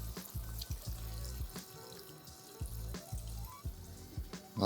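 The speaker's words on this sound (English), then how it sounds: "I'm just going to top this up with some water." Water runs and splashes into a soup pot holding shredded chicken for chicken corn soup, in uneven bursts, with low thuds and clinks of the vessel, fairly close and moderately loud.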